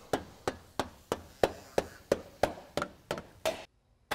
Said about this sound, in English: Use a rubber mallet when you're installing this. This is aluminum.